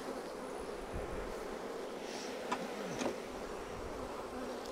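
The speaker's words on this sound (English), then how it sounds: "Lots of bees in here." Honeybees in a hive box during a colony split drone in a dense, steady buzz at close range, with a few brief louder passes as single bees fly near.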